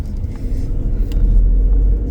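Heavy road traffic rolls by in a dense, low rumble of many cars, swelling louder toward the end as vehicles pass close.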